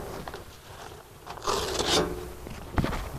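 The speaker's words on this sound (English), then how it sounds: "And here, I'll cut this side out." Material being cut to fit around a new waterproof vent in a stucco wall, with short rasping, zipper-like cutting strokes and scrapes up close, a louder rough burst in the middle and a sharp knock near the end.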